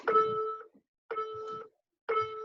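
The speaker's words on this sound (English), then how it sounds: "You guys should be able to hear the beeps. You're gonna hear 3 beeps." Three long electronic beeps from a workout countdown timer, evenly spaced about a second apart, each a steady tone held for over half a second, clear against silence.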